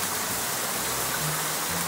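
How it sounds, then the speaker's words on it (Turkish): The Harbiye waterfall in Hatay roars nearby as abundant water gushes downward, a loud, dense, unbroken rush of white noise with no pauses. "Yani şelale buradan kaynıyor ve aşağı doğru gidiyor."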